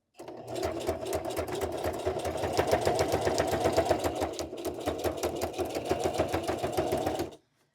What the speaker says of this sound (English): My machine is a Singer heavy duty 4452, and it's great.